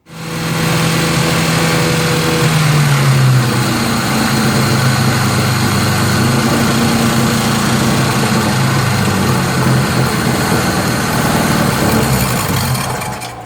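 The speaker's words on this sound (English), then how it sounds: "as soon as I put those iron filings down that carb and the throttle was wide open, that engine died." A Nissan Sentra engine running at wide open throttle while iron filings are fed down the carburetor, a loud steady roar that holds continuously for the whole stretch without talk.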